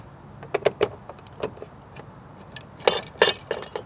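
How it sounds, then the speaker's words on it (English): Small metal hardware, a washer and nut, clicks and jingles while being fitted onto a license plate bracket on a 2018 Subaru STI bumper, in short scattered taps and rattles, close and fairly faint, with no talking. "Going to use another washer on the back side of this, and then we're going to go ahead and tighten it down with this nut."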